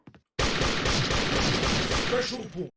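Rapid bursts of M1 Carbine gunfire in the online shooter Special Force, loud and close, firing almost continuously for over two seconds before cutting off.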